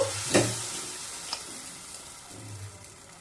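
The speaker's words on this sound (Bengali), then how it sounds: "এবার পেনের মধ্যে দু হাতটা বেটার দেব" Rice-flour roti batter poured into a hot pan hits with a brief loud sizzling burst, then settles into a fading hiss with a couple of faint ticks.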